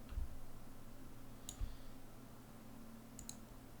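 A computer mouse clicks while dragging: a few faint, sharp clicks, one near the start, one in the middle and a quick pair near the end, over a quiet low hum.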